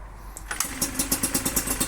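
A Suzuki RMX dirt bike engine catches on the first kick and settles straight into a fast, even putter, close and fairly loud with no one speaking.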